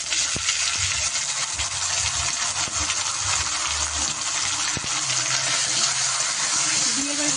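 Ground cumin, coriander and dry chilli pastes fry in a pan, giving a steady, dense sizzle throughout with occasional clinks and stirring sounds.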